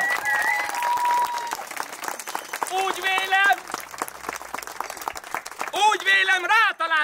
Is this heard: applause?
yes